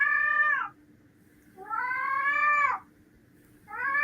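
A cat gives two long, loud, drawn-out meows close by, with a third starting at the end, separated by quiet gaps over a faint low hum.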